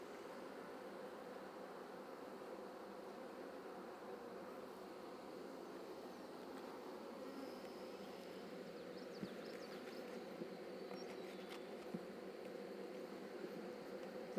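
Honey bees swarming over a frame of brood in an open hive, a continuous dense buzz that holds steady and grows slightly louder, heard close and without voices.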